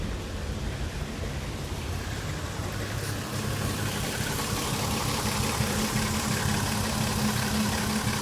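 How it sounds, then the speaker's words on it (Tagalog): A Toyota Avalon engine idling roughly and unevenly, with an irregular sputtering misfire running steadily throughout, close and fairly loud. "Halatang palyado yung makina."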